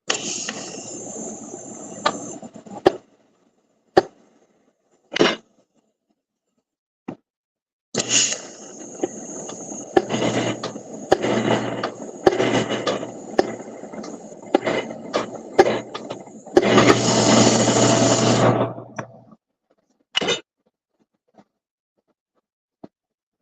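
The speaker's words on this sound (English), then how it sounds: "I weld everything complete" Welding in a fabrication shop: bursts of broadband arc crackle, a short one early and then a long sustained run with a few pauses, closing on a brief final burst, loud and close with no talk.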